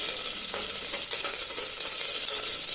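Mustard seeds, fenugreek, green chillies and curry leaves crackling in hot oil: a dense, continuous bright sizzle with scattered pops, close and steady with no voices.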